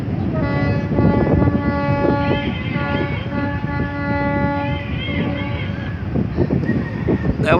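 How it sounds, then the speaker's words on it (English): A long, loud horn blast from the passenger ship Wisdom Express departing Iloilo port, its steady harmonic tone held for several seconds over busy harbour noise and crowd chatter. "That was the boat call from the Wisdom Express over here at the Iloilo port."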